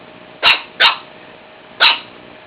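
A shih tzu dog barks three sharp, loud times close by, two quick barks followed by a pause and a third, with no talking in between.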